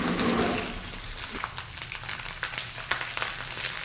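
Onion, ginger and garlic frying in hot oil in a pan, a steady sizzle with sharp scattered pops and crackles, fairly close and moderately loud, with no talk.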